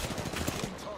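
Rapid gunfire in an Apex Legends Arenas ranked match, a dense, continuous burst of shots filling the whole second, with player voices mixed underneath.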